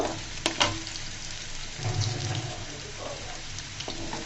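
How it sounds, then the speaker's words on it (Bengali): Garlic fries lightly in a pan before spinach goes in, a faint steady sizzle with a few small clinks and stirring sounds, fairly quiet and close. "রসুনটাকেও আমি হালকা করে ভেজে নিব।"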